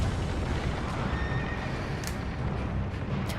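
A horse neighs in the video game Dark Souls 2. The whinny is buried in a dense, constant wash of rumbling game noise, and a couple of faint high accents appear near the end.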